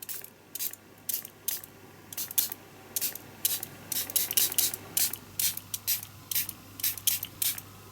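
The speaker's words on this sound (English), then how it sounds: "diluted my Dylusions with some water into a spray, a spritz bottle that I've got a little bit more control with" Diluted Dylusions ink spritzed from a small spray bottle onto burlap, a quiet close-up series of short hissing sprays in irregular quick bursts.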